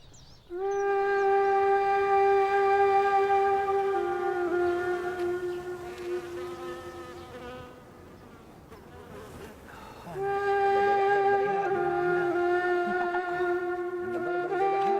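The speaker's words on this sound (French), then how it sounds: "Des rangées de petites ruches en bois protégées du soleil et de la chaleur." Honey bees buzz loudly and close around rows of small wooden beehives in Yemen, a sustained droning hum that dips briefly in the middle before swelling again, with no voices.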